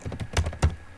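A handful of quick keystrokes on a computer keyboard while a command is typed in a coding setup, close, soft thumping taps in an uneven rhythm over one second, no talk.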